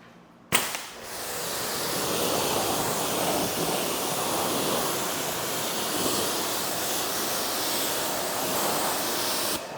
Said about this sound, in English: I think we're just right about ready to rinse here.